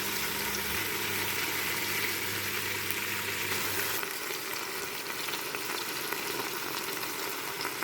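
Lamb pieces browning in a pot for biryani give off a steady, moderate frying crackle and hiss, with a low bubbling hum in the first half before it thins to an even sizzle.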